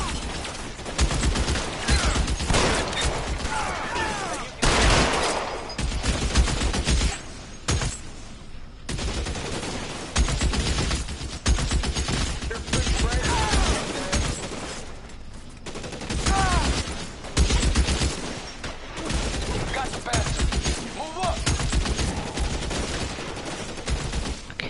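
Machine gun and gunfire in L.A. Noire, sustained loud bursts of automatic fire mixed with single shots nearly continuously, close and dense, with in-game voices shouting between volleys.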